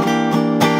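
Acoustic or electric guitar strums three chords in quick succession, each ringing briefly before the next, playing the opening line of a song.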